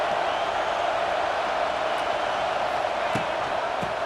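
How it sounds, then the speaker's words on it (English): Stadium crowd noise in the College Football 26 video game during a Texas A&M vs Indiana matchup, a dense, steady roar of the crowd holding at constant loudness with a couple of faint thumps. "This crowd bringing the energy and noise early."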